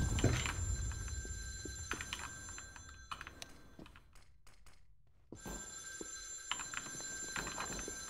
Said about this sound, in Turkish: Telefon çalıyor bir yerde ama.